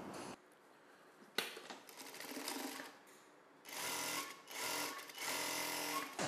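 Sewing machine stitching a blouse, fast rattling runs of stitching in several bursts separated by short pauses, fairly close and alone.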